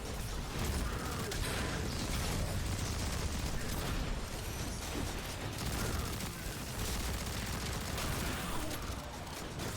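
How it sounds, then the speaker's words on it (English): Dense, continuous SMG fire from a video game rattles steadily and loudly throughout, a mechanical clatter with no pauses and no talking over it. "This SMG is really fun."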